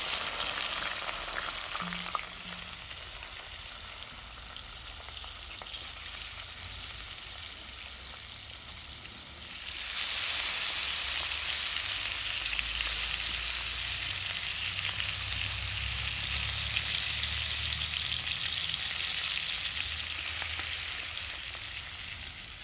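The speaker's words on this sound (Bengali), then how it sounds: "প্রথমে আমি মাছ ভেজে নেব" Fish frying in oil: a quiet hiss at first that jumps sharply louder about halfway as the oil erupts into a dense, bright, continuous sizzle.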